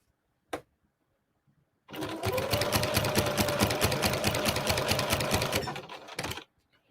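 A sewing machine back stitches a pillowcase, a short click followed by a steady, rapid mechanical chatter of the needle running for about four seconds before stopping, close and clear with no talking.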